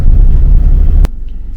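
Car pulling up to an orchard, a loud steady engine rumble from inside the vehicle that stops abruptly with a sharp click, followed by a quieter low hum.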